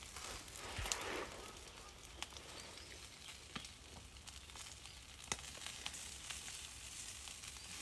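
Pork and saury grill over an open wood fire, fat dripping into the flames with a soft steady sizzle broken by scattered crackles and pops.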